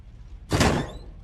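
A door slams open in The Joy of Creations: Story Mode horror game, a single sudden loud bang with a broad crash that fades over half a second.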